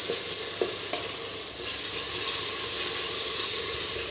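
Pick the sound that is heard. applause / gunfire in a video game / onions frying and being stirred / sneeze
onions frying and being stirred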